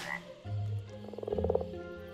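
A Minecraft frog croaks in the video game, a few soft low croaks followed by a quick rattling burst of bubbly pulses, heard alone at moderate loudness.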